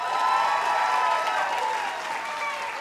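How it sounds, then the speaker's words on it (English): Students clap together in a classroom for a teacher's mother, a dense, steady round of applause with a few cheering voices mixed in, holding strong throughout and easing slightly toward the end. "Clap for my mama"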